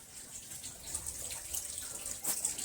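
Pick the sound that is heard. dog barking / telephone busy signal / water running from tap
water running from tap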